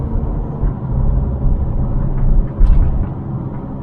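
A Mitsubishi Montero Sport, its radiator just replaced, drives along with a low, steady engine rumble inside the cabin, swelling briefly partway through, with no talk.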